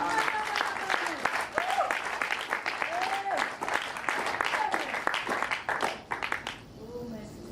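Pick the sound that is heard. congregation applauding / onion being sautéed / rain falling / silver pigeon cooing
congregation applauding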